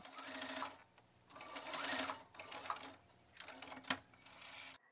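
A sewing machine shirring fabric with elastic thread for a summer midi dress runs in several bursts of rapid stitching, separated by short pauses, close and clear with no talking.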